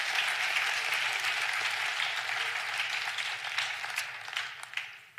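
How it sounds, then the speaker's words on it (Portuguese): A church congregation applauds steadily during a sermon, dense clapping filling the space before tapering off near the end. "Aplausos."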